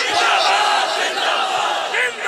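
A conference crowd chants religious slogans in unison, a loud massed roar of many voices rising and falling across the short stretch, close and dense.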